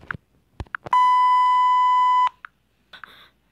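A single long, steady electronic beep, about a second and a half, flanked by short faint clicks and blips.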